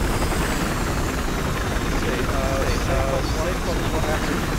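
A helicopter in Battlefield Hardline on the Dust Bowl map makes a steady, loud rotor and engine drone that fills the whole stretch under other game noise and voices.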